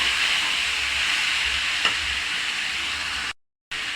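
Water spinach greens cooking in a pan: a steady, loud hissing sizzle runs nearly throughout, with one faint scrape of stirring, then breaks off into a brief silence near the end.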